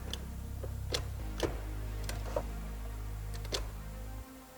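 Turn signal relay ticking in a car's instrument cluster, fitted with replacement LED gauge bulbs, a few sharp clicks spaced roughly half a second apart over a steady low hum, close and fairly quiet.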